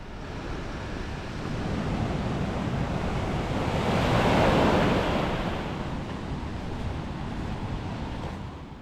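Sea waves wash against the shore beside a coastal walking path near Gyeongjeong-ri, a continuous roar of surf that swells toward the middle and eases off, mixed with gusty wind buffeting the microphone and no voices.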